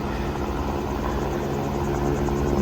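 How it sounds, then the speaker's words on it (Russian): A helicopter flying between mountains in the Pyrenees gives a steady, continuous rotor and engine drone with a faint rhythmic chop, heard from a distance and filling the whole clip with no speech. "Этот вертолет уже работает с утра. Летает между гор."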